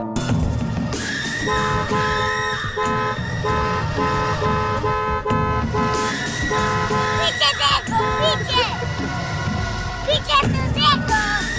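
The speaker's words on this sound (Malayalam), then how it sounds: "കാറുകാരൻ നിർത്താതെ ഹോൺ അടിച്ചിട്ടും ഈ വ്യക്തി മൈൻഡ് ചെയ്തില്ല" A car horn honks again and again in short and longer blasts over busy traffic noise, with voices speaking throughout.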